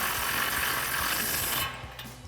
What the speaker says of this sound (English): Then we'll grab our 18mm socket with a swivel to tighten this back down.